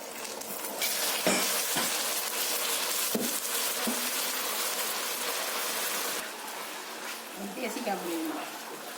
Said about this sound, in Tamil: பாருங்க, 1/2 கப் தண்ணி விட போகிறேன்.